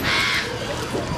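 A brief burst of harsh cawing from a bird at a zoo, fairly loud, with wind-like noise behind it.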